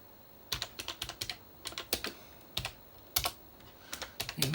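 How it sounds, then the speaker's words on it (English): Keys on a retro terminal keyboard are pressed firmly in short, irregular bursts of crisp, clicky strokes, close and fairly quiet, with brief pauses between runs of typing. "You've got to press these keys fairly firmly."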